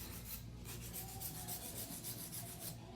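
A hand file works over an acrylic nail in circular strokes, giving a faint, close, rhythmic rasping with a quick steady run of scratchy passes and no talk.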